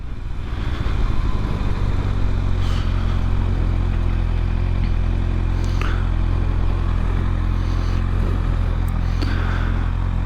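A motorcycle engine runs close and loud in a steady drone with some mechanical clatter, holding an even level throughout; no clear rising revs between gear changes stand out, and no one speaks.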